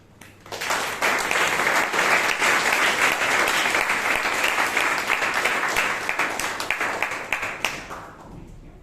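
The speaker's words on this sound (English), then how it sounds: "Let us give her a huge round of applause." Sustained applause from a crowd at a Toastmasters meeting in Bangalore, loud and steady for several seconds before tapering off at the end.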